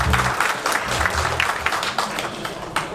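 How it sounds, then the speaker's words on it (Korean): An audience at the opening ceremony of a first hanbok fashion show and model contest claps steadily to welcome a speaker, a dense, even patter of many hands filling the room. "박수로 모실게요."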